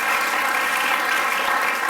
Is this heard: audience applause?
yes